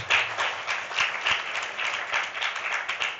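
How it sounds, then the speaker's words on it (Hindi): A group claps together for everyone during a Sunday reflection gathering, steady dense applause filling the whole stretch without any voices. "चलो सबके लिए ताली बजाओ"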